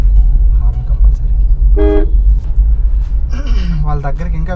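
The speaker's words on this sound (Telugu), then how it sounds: "Horn compulsory." Car horn honking during a driving practice lesson, two short loud toots over a low engine rumble, with an instructor's voice nearby.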